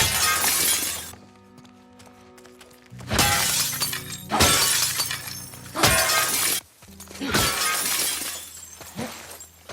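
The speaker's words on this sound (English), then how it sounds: "I love breaking glass in this game." Glass shatters repeatedly in the video game The Last of Us Part 2, four loud, sharp crashes with tinkling debris, each followed by a brief quieter gap with low ambient tones.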